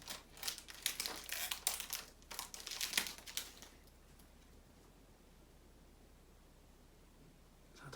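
Pokémon booster packs being torn open, with a burst of crisp foil crinkling and rustling up close over the first three seconds, then near quiet with faint hiss.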